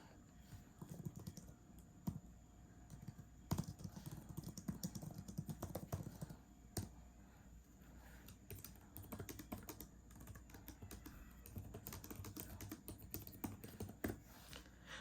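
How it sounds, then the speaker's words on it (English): Steady, quiet tapping of keys on a compact keyboard case for a Samsung Galaxy Tab S8 Ultra, clicking in an irregular typing rhythm with no voices. "Let me try to type some real words"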